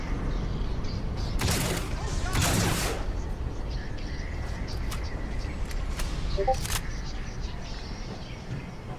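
Rapid weapon fire in a Star Wars video game comes in two dense bursts of quick shots over a steady background bed, with faint voices underneath.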